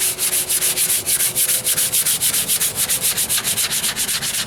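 Block sanding primer on the driver's side wheel arch of a 1998 Ford Ranger with 150 grit sandpaper: steady rhythmic back-and-forth rasping strokes, close and even, about five or six per second, with no talking.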